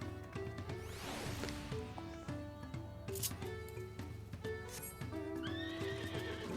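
Horse mount in Final Fantasy XIV galloping with steady clip-clop hooves and a neigh or whinny, heard over layered game music and effects.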